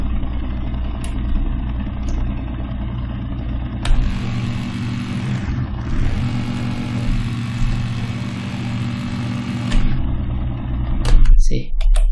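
Sports car engine sound from an Unreal Engine 5 Chaos Vehicle simulation: a steady close idling drone that swells into a brighter rev for several seconds before easing back, with a person talking over it.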